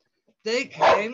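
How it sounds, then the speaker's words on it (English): A dog barks twice in quick succession, close and loud, a short yappy pair of woofs that cuts in right after a few words of speech. "I'm sorry about the dog."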